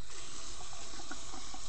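Water runs steadily from a tap in a lecture room, a continuous broad hiss and splash lasting under two seconds with no talking over it.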